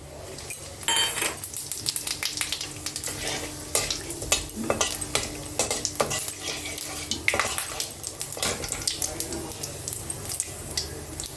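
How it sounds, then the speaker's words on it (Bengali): Cardamom, cinnamon, cumin and a bay leaf tempering in hot oil for a light chicken curry, sizzling steadily while a spoon clatters and scrapes against the pan, with a voice talking underneath. "এবার এতে আমি তিনটে ছোটো এলাচ, 2 টুকরো দারচিনি, একটুখানি জিরে আর একটা তেজপাতা, এটা আমি ফোড়ন দিয়ে দিচ্ছি"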